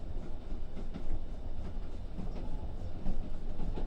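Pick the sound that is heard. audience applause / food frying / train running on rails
train running on rails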